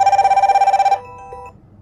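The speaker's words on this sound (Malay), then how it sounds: "dekat smartwatch berbunyi, dekat handphone pun berbunyi" A smartwatch and a mobile phone both ringing for an incoming call, a fast, loud warbling electronic trill that stops abruptly, followed by a faint softer tone that fades out.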